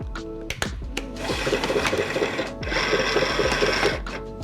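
A SINGER momento cutting machine loads a mat with repeated whirring motor bursts and mechanical clicks, running close and steady for several seconds between short pauses.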